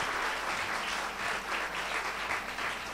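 Audience at a Marathi sermon clapping continuously, a dense steady wash of many hands throughout.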